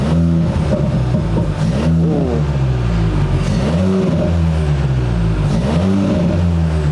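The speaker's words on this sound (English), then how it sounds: "So we're just going to rev the car now." A Seat Leon MK4 ST with a straight-piped quad exhaust and no silencers revs loudly up close, several sharp climbing blips over a deep idle, with one brief exclaimed remark.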